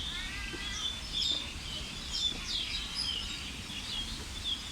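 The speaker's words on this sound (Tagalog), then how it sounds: "Ang sasaya ng ibon, no? Nag-aawitan sila." Small birds chirp and tweet in Kowloon Park, Hong Kong, a scatter of short, high calls repeating every second or so, fairly faint and set against a soft, steady outdoor hiss.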